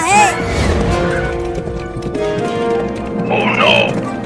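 Cartoon horse galloping along train tracks, its clip-clop hooves running steadily under busy music and sound effects, with a neigh near the start.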